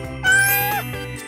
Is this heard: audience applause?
no